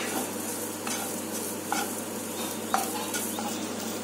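Mushroom pepper fry with cumin and salt stirred in a hot pan, a soft continuous sizzle broken by a few distinct spatula scrapes and taps, close up over a low steady hum.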